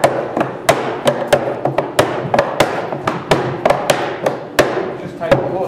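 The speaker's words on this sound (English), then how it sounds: "and you tighten down your hoops." Sharp wooden knocks from hammering down the hoops on a wooden barrel in an Irish cooperage, a quick irregular run of about twenty strikes, close and loud, ringing over a low room background.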